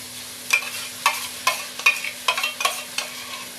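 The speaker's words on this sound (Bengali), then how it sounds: "মশলাটাকে ভালো করে কষিয়ে নিতে হবে। আর এখানে আমি দিয়ে দেব 4 চামচের মতো আদা রসুন বাটা।" Spice paste with ginger-garlic paste for a mutton curry fries in a pan, with about seven evenly spaced stirring scrapes over a faint continuous sizzle, close and without speech.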